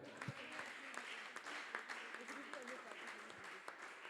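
A church congregation applauds to acclaim the Lord, a sustained, moderately distant clapping with voices mixed in underneath.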